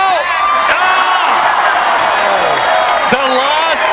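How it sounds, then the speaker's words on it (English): Crowd cheering and whooping at a U.S. Open pickleball match, a loud, sustained roar with shrill whistles and shouts rising and falling throughout, filling the whole stretch without a break. "Crowd liking what they're seeing right now."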